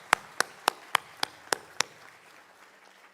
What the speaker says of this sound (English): Come on, let's give a good applause, please.